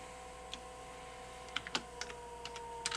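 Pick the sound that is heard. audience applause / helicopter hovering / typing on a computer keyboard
typing on a computer keyboard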